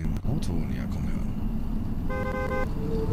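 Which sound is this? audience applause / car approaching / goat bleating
car approaching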